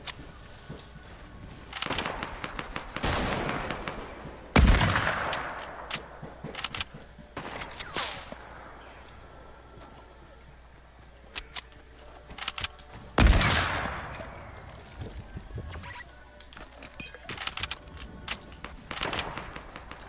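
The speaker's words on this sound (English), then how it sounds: "I'm getting shot at." Video game gunfire: bursts of rapid automatic fire and scattered single shots, with two especially sharp, loud reports standing out amid quieter crackling volleys that come and go.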